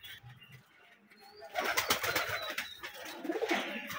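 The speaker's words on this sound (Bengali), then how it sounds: "কবুতরগুলো খাইতে দিলাম, মনে করে দেখি দর্শকের উদ্দেশ্যে কবুতরগুলো একটু ভিডিও দিই" Giribaz pigeons coo softly while being fed, growing busier and louder halfway through with a burst of rustling and overlapping calls close by; no voices.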